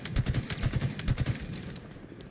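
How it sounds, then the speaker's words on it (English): Rapid bursts of automatic gunfire in Halo Infinite during a Big Team Battle match, three quick clusters of close, punchy shots in succession followed by fading echoing reports. "Just headshot him and he didn't die."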